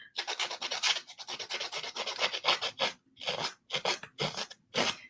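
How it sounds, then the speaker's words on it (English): Paper edges being distressed with a craft tool, quick raspy scraping strokes in bursts, close and fairly quiet with short pauses between passes. "Ah, distressing the edges"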